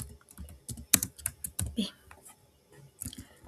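Keys on a computer keyboard tapped in quick irregular bursts, close and fairly quiet, with brief pauses between clusters of keystrokes.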